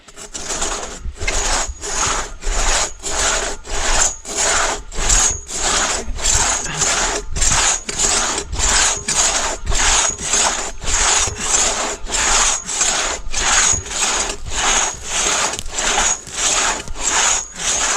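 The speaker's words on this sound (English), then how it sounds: "We gotta go a little bit slower and try and get a little bit more of the teeth into this thing." A two-person crosscut saw cuts through a big log on a wilderness trail, with loud, steady back-and-forth strokes in an even rhythm, close up and without talk.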